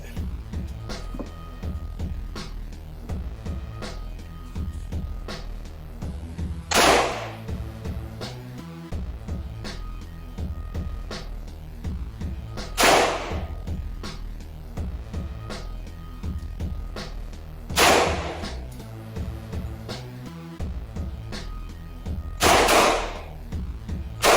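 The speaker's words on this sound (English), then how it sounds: "Finishing off these mags, I'm about to let the 10mm go" Four loud, sharp gunshots from a 10mm handgun ring out, spaced several seconds apart, as the last magazines are emptied. A busy, continuous musical backing plays underneath.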